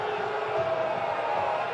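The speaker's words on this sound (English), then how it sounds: "the home crowd making their opinions heard" A home stadium crowd at a Louisville City FC versus Rhode Island FC soccer match reacts to early fouls with a steady, distant roar of jeers and shouts, holding level throughout the short stretch.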